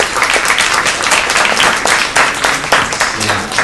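Audience applause at a college poetry slam competition, a dense continuous clatter of clapping from a crowd, loud and close, filling the whole stretch.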